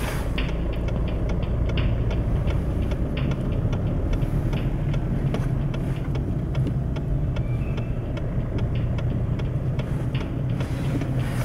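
A VW Golf 5 rolls along in second gear with no accelerator pressed, a steady low engine drone with faint ticking clicks over it, heard from inside the car.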